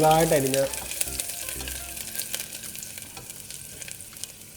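A small piece of ginger frying in a pan with cloves and star anise for a hotel-style egg curry, with a bright, busy sizzle and stirring crackles. A voice briefly sounds at the start before the frying carries on alone and slowly quietens.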